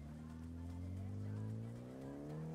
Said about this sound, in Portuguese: Tá derrapando. Perdendo o controle aqui.